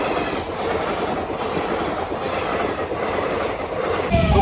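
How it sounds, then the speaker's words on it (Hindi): A train rolls past a railway level crossing, a close, loud continuous rumble with rhythmic clickety-clack of wheels over rail joints and a faint metallic squeal, rising louder at the end. "थोड़ी देर में ट्रेन आने वाली है"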